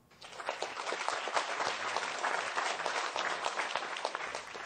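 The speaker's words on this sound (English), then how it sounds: "You deserve applause" Applause from an audience for winners of a nursing excellence awards ceremony rises quickly and holds as continuous, moderately quiet clapping from many people.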